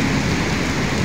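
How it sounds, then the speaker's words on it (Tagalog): Heavy rain pours down in a dense, continuous hiss, loud and close, with no voices over it during the brief moment. "Ano na naman tong grabing lakas ng ulan"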